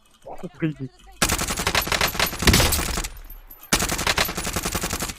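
Bursts of M16 automatic fire in the shooter game Call of Duty Warzone, with long rapid strings of loud close shots separated by a short gap and speech at the start.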